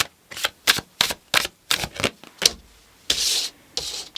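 Tarot cards being shuffled in a reading: a rapid series of crisp, papery riffling bursts in an uneven rhythm, ending in a longer rub, loud and close with no talk.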